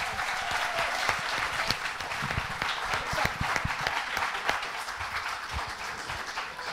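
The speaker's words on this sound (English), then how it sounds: "please a round of applause once again" A room full of people claps steadily for a student team that has just finished its master's thesis defense presentation, a dense, even wash of applause throughout with scattered sharper claps standing out.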